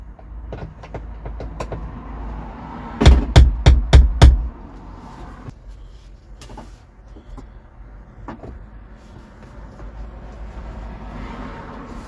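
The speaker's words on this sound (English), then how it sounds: "Give it a tap with a little hammer." Five quick, evenly spaced metallic taps ring out close by as a small hammer strikes a screw on a 1975 Vauxhall Viva HC, amid a few fainter clicks and a low background hum.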